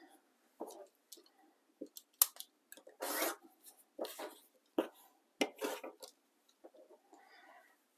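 Quilting fabric and paper are trimmed along a fold, giving close, quiet bursts of crisp rustling, snipping and rubbing with short pauses between.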